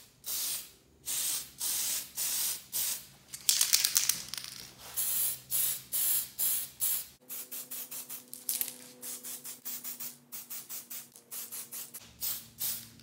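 Light dust coat of spray paint on a Traxxas TRX-4 Lexan body: about two dozen short, close hissing bursts from an aerosol can in a steady rhythm, with brief pauses between them.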